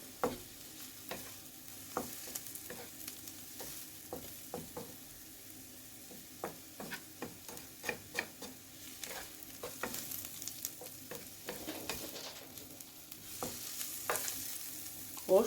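Porcini mushrooms fry with parsley in a pan, giving a steady soft sizzle broken by frequent scraping and clicking stirring strokes, close up and moderately quiet, with no talking.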